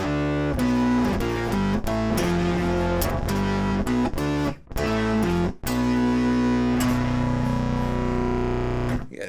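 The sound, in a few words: guitar through EarthQuaker Bit Commander octave fuzz pedal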